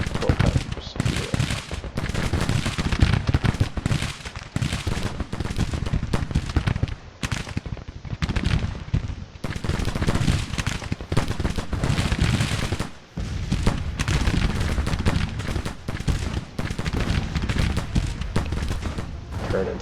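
Dense, continuous rifle volleys and artillery booms from a Civil War battle at Pea Ridge in Grand Tactician, loud and unbroken crackling fire with a voice talking over it.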